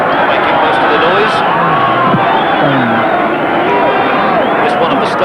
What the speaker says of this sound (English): I fancy it's the Chileans in the crowd here in Mendoza, making most of the noise.